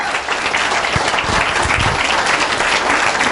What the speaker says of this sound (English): Guys, let's give Dean Akers another round of applause.